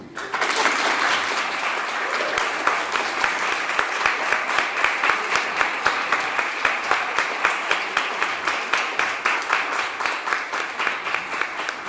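An audience at a magazine premiere applauds, a dense, loud wash of clapping that settles into a rhythmic, pulsing clap pattern over twelve seconds.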